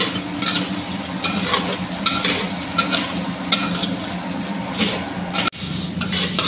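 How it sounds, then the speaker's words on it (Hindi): Vermicelli (semiya) tossed and roasted in a pan for kheer, with a steady dry sizzle and repeated stirring scrapes and light clinks throughout, close and moderately loud, one brief break near the end. "अब हम डालेंगे सेमिया। इसको हल्का सा ब्राउन कर लेंगे सेमिया को।"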